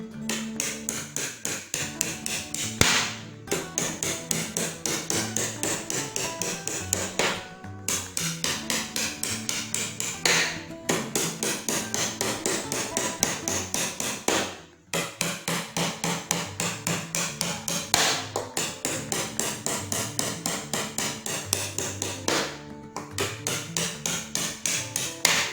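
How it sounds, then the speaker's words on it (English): A wooden hammer knocks plugs on an IKEA hammering toy in rapid, steady strikes that run close and loud for about 25 seconds, broken by a few short pauses. "So with this wooden hammer,"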